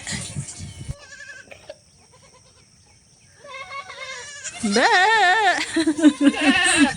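Mother goats outside and their kids inside a pen bleat back and forth, with sparse calls early and a loud, wavering chorus of overlapping bleats building toward the end.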